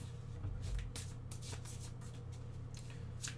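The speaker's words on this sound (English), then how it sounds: "let's go ahead and shuffle one more time" Tarot cards are shuffled by hand close up, giving quiet rapid riffling and sliding bursts repeated over a few seconds, with no speech.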